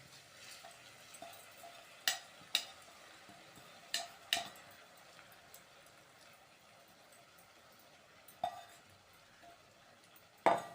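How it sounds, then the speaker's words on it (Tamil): Basmati rice is stirred into sautéed vegetables in a pan, faint soft stirring with several sharp spoon clinks against the pan over a low background hum. "இப்போ நம்ம எடுத்து வச்சுருக்கிற பாஸ்மதி ரைஸை இதோட சேர்த்துடலாம்."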